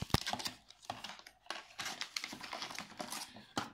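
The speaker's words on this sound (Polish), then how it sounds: "O, wyciągnę z folii." Crinkly plastic foil wrapping is peeled off a Brother BT6000BK black ink bottle up close, giving a busy run of crackles, rustles and sharp snaps over a few seconds.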